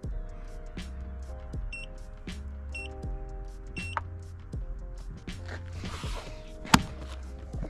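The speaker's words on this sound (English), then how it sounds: "we're gonna seal it until we hear three beeps." A countertop vacuum sealer closes a plastic bag around a cleaned fish, humming steadily while short electronic beeps sound at intervals over the motor, followed by a sharp click near the end.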